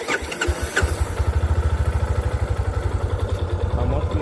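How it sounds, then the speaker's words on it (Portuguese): A 2016 Yamaha Fazer 250 motorcycle engine cranks and starts, then settles into a close, steady low idle with a rapid even thumping pulse. "Esse som dessa moto aqui parece que é um som mais estridente, parece que é um som mais aberto."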